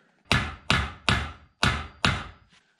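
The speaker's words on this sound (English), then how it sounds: "Then you're supposed to hammer this thing in here." Five sharp metallic hammer blows drive a bolt extractor tool into a stuck bolt on a dump trailer build, evenly spaced and close, each ringing briefly before the next strike.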